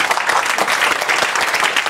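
Audience clapping at a stuttering-school class, dense continuous applause from a small group in a room, close and loud for a couple of seconds.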